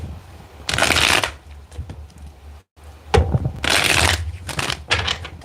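Tarot cards shuffled by hand in several bursts: two long, dense riffling runs, then a few short follow-up shuffles, close and crisp with no talking.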